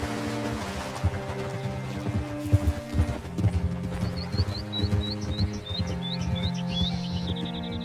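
Horse hooves clip-clopping at a steady walk in Red Dead Redemption 2, with rhythmic thuds up close, birds chirping in the background and a low music bed underneath.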